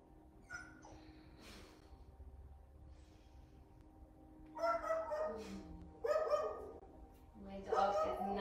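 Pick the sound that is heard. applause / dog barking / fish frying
dog barking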